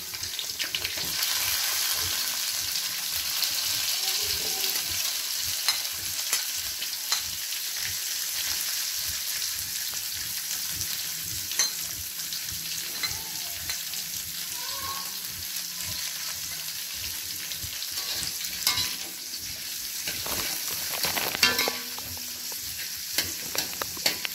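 Broccoli, carrots and baby corn sizzling and crackling steadily in a hot pan, with occasional scraping and tossing as they are stirred, no talking.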